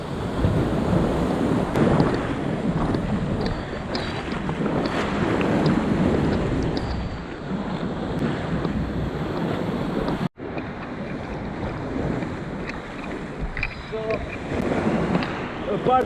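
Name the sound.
ocean waves at a beach in Ksamil, Albania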